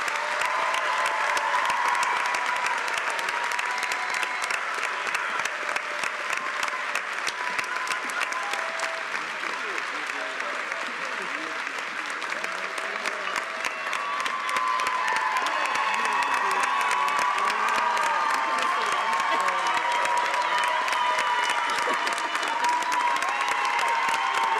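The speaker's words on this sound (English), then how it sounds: "I think we need to give them all one big round of applause" Sustained applause from a large ceremony crowd honoring nursing graduates at a school of nursing pinning ceremony, with scattered cheers and whoops rising and falling over nearly twenty-five seconds.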